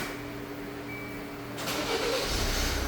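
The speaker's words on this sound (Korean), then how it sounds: "시동 걸립니다." A car fitted with a Mikey Premium 3 smart alarm starts by remote: a quiet hum, then a sudden crank partway through that catches and settles into a steady, nearby idle.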